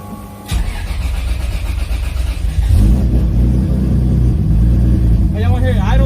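A car engine on a hood track night cranks and catches, then settles into a loud, rough, loping idle close by, with a voice briefly heard near the end.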